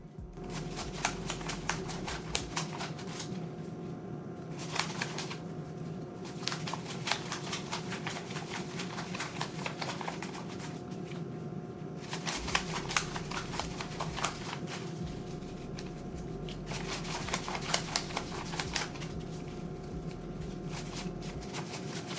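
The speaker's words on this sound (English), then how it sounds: "First things first, we have to organize the money, so I'll let this speak for itself and be a little bit of an ASMR moment" Paper cash bills are handled, shuffled and sorted by hand close up, with a continuous crisp papery rustle and flicking in steady bursts broken by brief pauses, and no talking.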